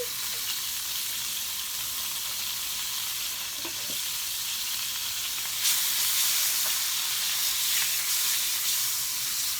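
Ginger fries in a hot pan with a steady, bright sizzle and hiss, close and constant, with a few soft stirring clicks and a brief swell of crackle partway through.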